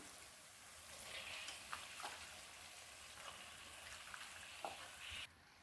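Chicken pieces sizzling in a pan with chili powder and spices, a steady crackling fry with scattered sharp pops and spatters before it cuts off abruptly near the end.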